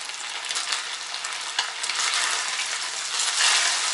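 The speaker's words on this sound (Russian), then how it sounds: "Лук долго не жарю." Onions fry in a pan on a village kitchen stove, a steady, close crackling sizzle that swells slightly toward the end, with no one talking.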